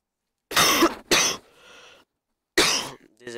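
Several harsh coughs come in quick bursts, close and loud, separated by short silences, over Minecraft gameplay.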